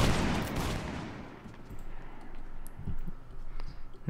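Line infantry musket volley in Mount and Blade Warband, a dense crackling burst of many shots at once up front, then fading into scattered distant pops and rumble.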